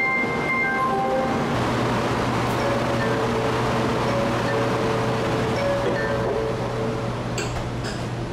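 A Taiwan High Speed Rail train of the 700 series type pulls away from a station, with a steady loud interior rumble and a few sustained tonal notes like chimes or motor whine.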